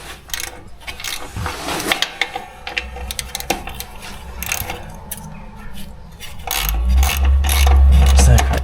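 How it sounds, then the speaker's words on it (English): Ratchet wrench undoing 7/16 wheel cylinder bolts on a Pontiac brake, loud close rapid clicking in repeated bursts, followed by a heavier low rumble near the end. "7/16 for the bolts to undo the wheel cylinder."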